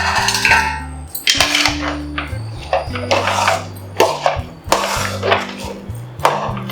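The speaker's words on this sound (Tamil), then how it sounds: "இந்த மாதிரி விஸ்க வச்சு நல்லா கலக்கி விட்டுருங்க" A metal whisk beats modhagam batter in a pot to break up lumps, giving loud, close, rapid metallic clatter and scraping in irregular bursts throughout.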